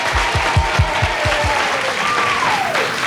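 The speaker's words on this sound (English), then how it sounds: "Give him a big round of applause, ladies and gentlemen." An audience claps and cheers at a 1976 Christmas show, steady applause with a whistle rising and falling over it.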